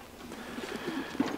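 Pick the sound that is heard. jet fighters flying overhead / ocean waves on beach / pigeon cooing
pigeon cooing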